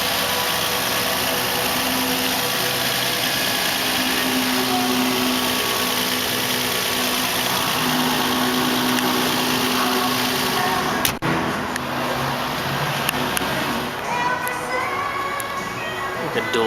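A 2007 Nissan Murano SL AWD with its 3.5 liter V6 running at a steady idle, a constant smooth hum close by, with a sharp knock partway through and a slightly changed tone afterward.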